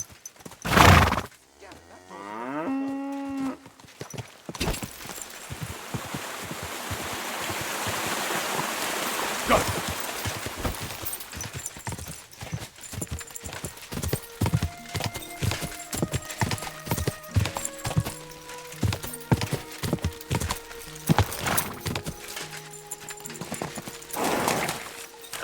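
Hooves clip-clop in a steady trot on hard ground in the Kingdom Come: Deliverance II video game, with a loud close neigh at the start, running water in the background, and a voice speaking partway through.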